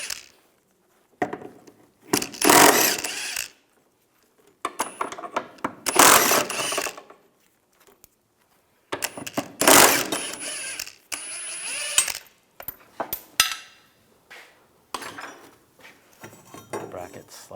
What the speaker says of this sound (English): Using a 16mm socket, we're going to take this bracket off, take the 4 bolts out.